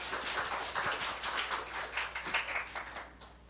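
Congregation at a Korean Sunday worship service claps in a dense, steady burst of overlapping handclaps, moderately loud and close, fading slightly near the end.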